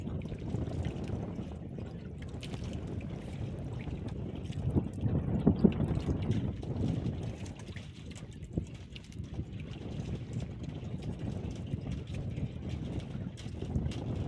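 Strong wind and waves at sea, a steady broadband roar of gusting air and sloshing water that stays loud and continuous throughout, with no voices.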